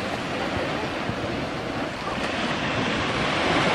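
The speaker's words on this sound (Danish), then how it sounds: "Det er bare lige en bølge, så får lidt af det vand." A sea wave washes ashore, a steady loud broadband rush of surf sustained throughout, with wind buffeting the microphone.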